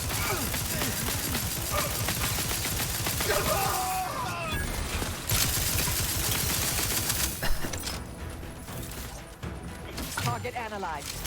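Assault rifle fire in The Outer Worlds 2 on very hard difficulty, dense rapid bursts crackling steadily through the whole stretch alongside game voices and chatter.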